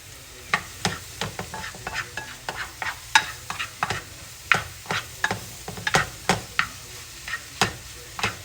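Onions sautéing in a pan for a creamy mushroom-spinach pork chop sauce, with a steady background sizzle and frequent sharp scraping clicks from stirring at an irregular, busy rhythm, close and moderately loud with no talking.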